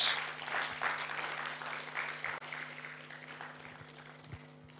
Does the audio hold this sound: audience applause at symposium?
yes